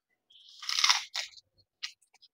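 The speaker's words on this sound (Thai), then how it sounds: "ก็แคบหมูนั่นแหละแคบหมู" Crispy pork rinds crunch close up in a quiet room. One long, crackly bite is followed by a few shorter crunches, and no one speaks.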